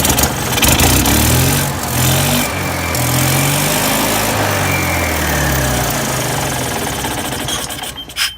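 A golf cart engine runs after a carburetor change, giving a loud, close, sputtering rattle that revs up and settles in wavering surges, then dies away at the end.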